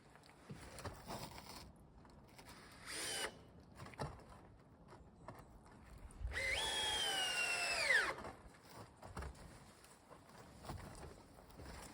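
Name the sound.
screws being driven into a board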